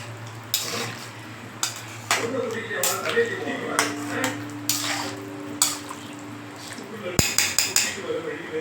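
A spoon scraping and clinking inside a cooking pot as prawn curry is stirred, a series of sharp metallic taps over a steady low hum, with faint talk in the background.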